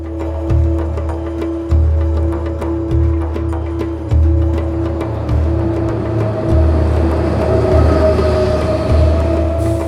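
Steady low rumble of the Afrosiyob passenger train from Samarkand to Bukhara, Uzbekistan, in motion, with rhythmic clacks of wheels over rail joints repeating every second or so, heard from inside.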